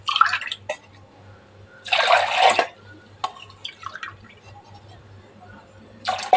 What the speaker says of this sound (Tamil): இப்போ மிக்சர் ஜாரில் தண்ணி கொஞ்சம் ஊற்றி இந்த டம்ளருக்கு 3 டம்ளர் தண்ணி மிக்சர் ஜாரில் ஊற்றிடலாம்.